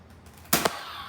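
A toy Nerf gun fires a dart with a quick, airy pop and a faint second click right after, close by and brief, in otherwise quiet surroundings.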